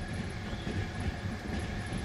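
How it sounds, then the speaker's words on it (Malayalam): A Trans-Siberian Railway train runs through marshland in Russia, giving a steady, dense low rumble with a faint high whine, continuous and even throughout. "ചതുപ്പ് പ്രദേശങ്ങളിലൂടെയാണ് ട്രെയിൻ കടന്നുപോകുന്നത്."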